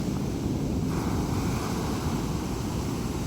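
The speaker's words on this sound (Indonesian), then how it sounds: "Ombaknya relatif tenang, nggak sekenceng yang ada di Tambak." Calm sea waves wash onto the white sand beach of Pasir Putih Pasetran Gondo Mayit in Blitar, a constant broad rush of surf blended with heavy wind buffeting the microphone.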